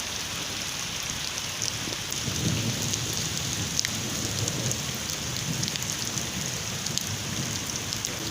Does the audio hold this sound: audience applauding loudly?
no